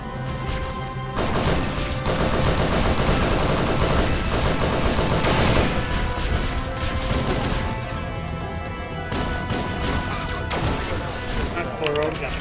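Rapid, dense gunfire and crashing impacts from the berserk power-up in Halo SPV3, a sustained loud barrage with game music underneath, running almost continuously through the clip.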